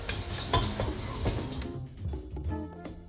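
Foie gras sizzling and frying in a hot pan, a steady loud crackle that thins out toward the end, with a few faint clinks of the pan.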